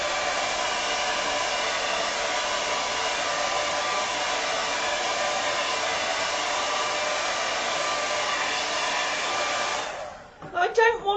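A hair dryer blows on a watercolour painting with a steady, loud whirring hum for about ten seconds, then switches off, followed by brief faint handling noises.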